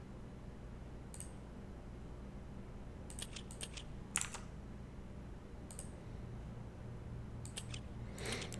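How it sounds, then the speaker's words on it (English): Someone enters a code with a computer keyboard and mouse, producing sparse, faint clicks and key taps in small scattered clusters over a low steady background hum. "I'm using my mouse and keyboard right now to enter this code"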